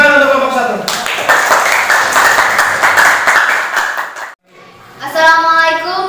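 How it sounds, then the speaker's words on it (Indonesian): Classroom applause for a student group, a burst of many hands clapping for a few seconds that cuts off abruptly, with voices talking just before and right after. "Tepuk tangan untuk kelompok 1"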